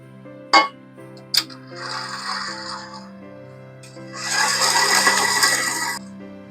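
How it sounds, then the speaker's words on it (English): A stand mixer beats biscotti dough with melted butter, vanilla and eggs, a steady motor hum with rising whirring and churning, preceded by two sharp clicks and growing louder in the second half. "Stop the mixer and do a thorough scrape down."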